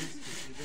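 A hand saw cuts through the wooden trunk of a maypole outdoors, a close, loud continuous rasping stroke of blade on wood with no talk over it.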